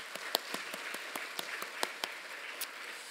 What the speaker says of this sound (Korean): 영광의 박수를 하나님께 올려드리도록 하겠습니다